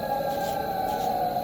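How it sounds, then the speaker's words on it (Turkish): A sustained, droning wail from the Siren Head monster in a horror video game holds steady at one pitch with a faint higher tone above it, continuous and unbroken throughout. "Bu siren kafanın sesi."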